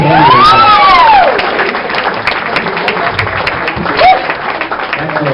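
Party crowd clapping for a young performer named Mr. Spoon, steady applause with occasional cheers and whoops, loud at the start and easing slightly, with voices heard through it.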